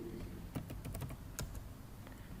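Typing on a computer keyboard during accounting voucher entry, a short burst of quick, light key clicks at close range over a faint background hiss.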